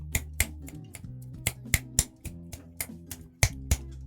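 Repeated finger-snapping attempts produce a series of sharp, uneven clicks at irregular intervals over a low musical background.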